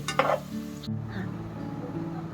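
Onions frying in a pan for paneer biryani until browned, with a steady sizzle, a burst of bright crackle near the start, then a softer hiss continuing alone.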